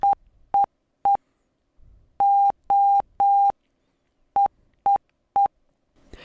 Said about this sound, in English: beep out Morse code into the terminal and print it at the same time, just like this